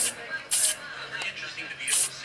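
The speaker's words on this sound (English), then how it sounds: "I'm going to kind of spray the outsides to blend in" An aerosol spray can hisses paint onto a haunted-attraction prop being distressed, in three short bursts spread over a couple of seconds, close and loud, with a faint hum underneath.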